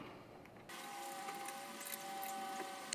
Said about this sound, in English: Using our 1/8 Allen key, tighten those ones up.